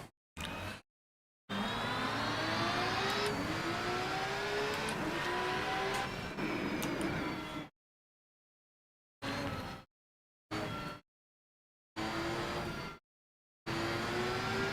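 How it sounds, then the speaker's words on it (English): Racing car engine in the sim racing game Rennsport roaring and shifting through gears, loud and continuous, cutting out abruptly several times into silence before resuming in short bursts. "Car sounds terrible."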